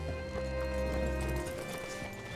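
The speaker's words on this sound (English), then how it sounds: "Hitch your horse up here." Horse hooves clip-clop steadily in a western setting in the video game Red Dead Redemption 2, rhythmic and close over a low ambient hum, with no talk.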